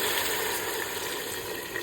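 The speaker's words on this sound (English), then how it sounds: "I'm just gonna add water now" Water is poured from close by into a pot of beans and beef on the stove, a steady rushing gush that runs evenly for about two seconds. No one speaks over it.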